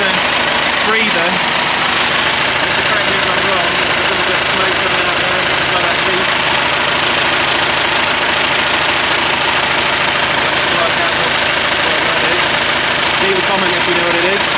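A classic Massey Ferguson 65 tractor engine idles steadily and loudly up close, a continuous even chugging rumble with no pauses.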